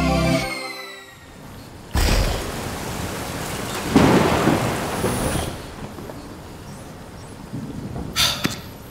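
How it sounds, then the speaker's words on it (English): Thunder rumbles and cracks over steady rain during a sudden storm, with loud bursts recurring across the stretch and rainfall hissing continuously in between. "One minute it's sunny, the next it's raining."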